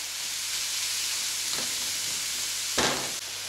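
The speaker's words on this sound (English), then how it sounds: "We're going to let this just cook and brown for a bit." Minced meat and minced garlic sizzle steadily as they brown in hot oil in a pan, a constant close hiss with a brief louder burst of spitting near the end.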